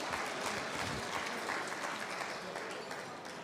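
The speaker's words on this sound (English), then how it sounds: "Give them a round of applause." Guests at a charity gala dinner give a full, continuous round of applause, a dense wash of clapping that holds steady throughout with a slight tapering at the end.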